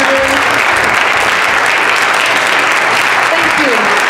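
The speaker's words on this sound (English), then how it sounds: "stand up and get a round of applause for the work you're doing" An audience at a school-district event honouring seniors gives loud, continuous applause, a dense wash of clapping from a big crowd with a few voices faintly audible through it.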